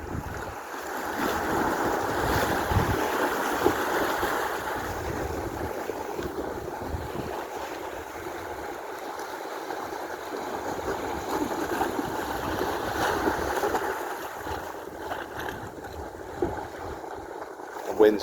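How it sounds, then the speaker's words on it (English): Wind gusting outdoors by the water, a broad, rushing buffet against the microphone with surf and boat sounds around it, rising and easing across the stretch. "The wind's picking up again."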